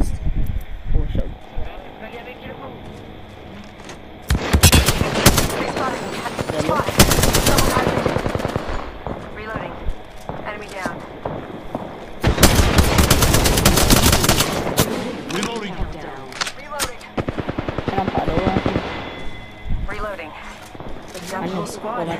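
Rapid automatic weapon fire in the video game Apex Legends, loud bursts of shots with long sustained volleys, close and dense, layered over game effects with people talking throughout.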